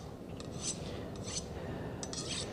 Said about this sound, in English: Basic idea that you want to imagine is as though you are shaving material off of your sharpening stone.